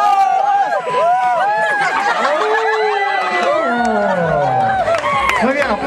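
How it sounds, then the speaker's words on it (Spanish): Crowd of students chanting a team cheer for the Lobos at a school event, loud rhythmic voices with rising and falling shouted calls throughout, lively and close. "escuchemos la porra de los Lobos"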